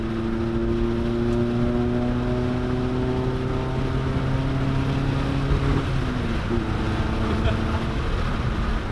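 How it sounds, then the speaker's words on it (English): A 1989 Honda Civic EF hatchback cruising at highway speed, its engine droning steadily with shifting tones as it overtakes other cars, with road and wind noise continuous throughout. "60 miles an hour in this car feels like 120. You have no idea. We're gonna pass a few cars here."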